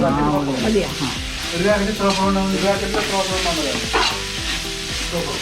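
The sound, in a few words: coriander powder frying in oil for biryani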